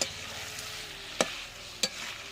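Chicken masala fries in a clay pot, giving a soft, steady sizzle with two sharp scrapes of a spoon against the pot, all quiet and close with no voices.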